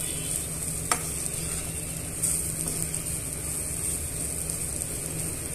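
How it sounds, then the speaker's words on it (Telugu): Dry beans with grated coconut stir-fry in a pan over medium heat, giving a continuous even sizzle with a couple of brief scraping knocks, and no one speaking. "స్టవ్ మీడియంలో పెట్టుకొని ఇలా ఫ్రై చేసుకోవాలండి"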